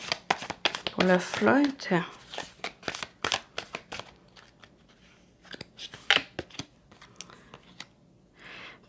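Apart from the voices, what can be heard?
handling tarot cards, adding a card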